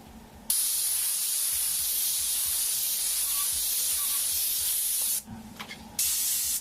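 An airbrush sprays paint over a freehand shield as a loud, steady, close hiss that cuts off briefly near the end before resuming, with no talk.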